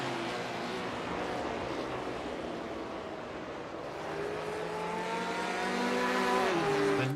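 Race cars in a sim racing game lap Mount Panorama, engines droning steadily with rising and falling pitch as they accelerate and shift, the revving swelling louder toward the end with no voices over it.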